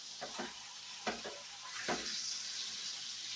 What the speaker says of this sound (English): We're going to sear it on both sides.